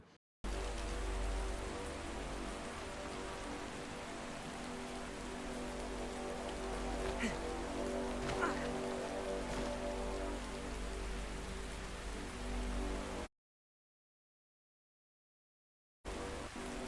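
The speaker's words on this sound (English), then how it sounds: "Why does it have to be raining now of all times?" Steady rain pouring in the video game ARK, a dense, even hiss of drops on surfaces that continues for many seconds, briefly cuts to silence, then resumes, with no speech.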